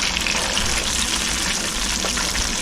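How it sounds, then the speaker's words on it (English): Breaded fish fillets fry in vegetable oil in a skillet, giving a steady, loud, close crackling sizzle that holds evenly throughout with no voices. "And then we're going to fry them in the skillet in some oil."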